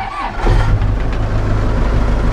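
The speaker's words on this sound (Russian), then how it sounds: "что-то экскаватор ужасно завелся. Сейчас второй запуск." A CAT 432e backhoe excavator engine starting after a cold night below freezing: a loud close diesel crank that catches and settles into a rough, heavy rumbling idle.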